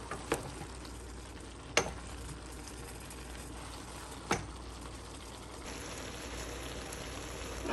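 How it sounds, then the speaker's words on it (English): Black beans being stirred in a cooking pan, a soft wet sizzle throughout with a few sharp spoon knocks against the pan, quiet and without talk. "We're going to give it a little stir and get everything well combined"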